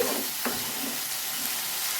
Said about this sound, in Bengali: এটা ভালো করে মিক্স করে দিচ্ছি